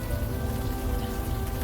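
Steady rain falls in the video game Unavowed, a dense, even hiss of drops on hard surfaces with no talk.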